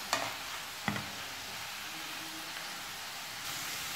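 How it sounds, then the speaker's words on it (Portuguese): Chicken pieces seasoned with annatto searing in a hot pan, a steady close hiss of frying after a couple of sharp clinks at the start. "Vamos selar esse frango."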